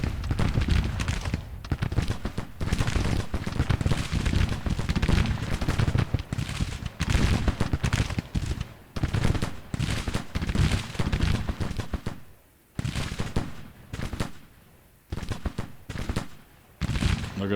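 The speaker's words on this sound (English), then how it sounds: "Alright, we'll just keep shooting it out." Civil War musket fire in a Grand Tactician battle, a continuous crackling fusillade of many overlapping shots that stays loud throughout. It breaks off briefly a few times before resuming.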